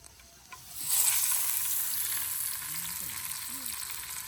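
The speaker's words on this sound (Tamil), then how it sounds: "இப்போ இந்த மீனை பொறிக்க போகிறோம் இது கொஞ்சம் அளவான எண்ணெய் விட்டு தான் பொறிக்கிறது" Fish frying in a small amount of oil for a village-style Jaffna fish curry, a sizzle that swells suddenly as it goes in and then holds steady and close, with faint voice-like sounds underneath.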